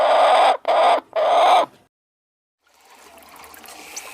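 A chicken clucks three times in quick, loud, close succession, followed by a pause and then quieter background noise with faint trickling.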